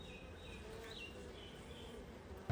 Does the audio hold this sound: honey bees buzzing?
yes